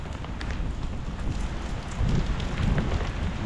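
Heavy rainstorm in Sidi Bel Abbes, Algeria, a steady hiss of rain pouring on surfaces, moderately faint, swelling louder with a low rumble in the latter half.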